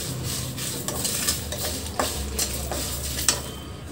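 Drumstick leaves frying in a pan, a soft continuous sizzle broken by repeated spatula stirs and scrapes against the metal, with a few sharper clinks near the end.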